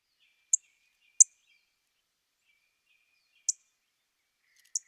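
Four sharp, high chip call notes of an orange-crowned warbler, spaced irregularly, stand out against near silence, with faint thin tones between them.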